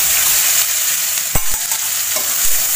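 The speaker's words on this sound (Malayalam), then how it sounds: "ഇത് നന്നായിട്ട് ബ്രൗൺ കളറാവുന്നവരെ നമുക്ക് വഴറ്റി കൊടുക്കാം." Chopped onion sautéing in a pan for an aloo matar masala curry, a loud close sizzle with a few knocks and scrapes of stirring, no voices.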